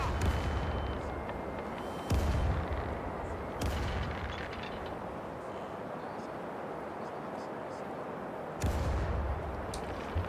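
Heavy ship cannons boom in a naval battle in Caribbean Legend, with several deep broadside blasts spaced a few seconds apart over a constant rumble of wind and sea, while voices call out orders.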